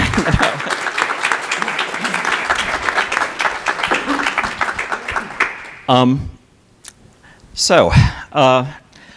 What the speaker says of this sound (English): Round of applause for anyone aged 20-something to 80-something.